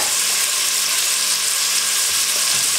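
White wine poured into a hot pan for a shrimp blanquette with wild garlic sets off a loud, steady hiss and sizzle that fills the moment close up, with no talking.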